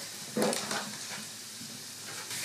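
Spanish chicken and rice stirred in a single pot on the stove, a spoon scraping through with a brief loud sizzle, then a softer steady frying hiss, no talking.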